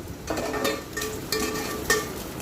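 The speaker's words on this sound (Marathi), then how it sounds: "इथे बघू शकता तुम्ही कसं एक एक मिनिटांनी सारखा आपल्याला परतून कांदा व मिरची घ्यायचे" Chopped onion and green chili sizzle in a pan for a Marathi vegetable dish, with a continuous close frying hiss and a few sharp scraping stirs of a spatula, loud and without any talk.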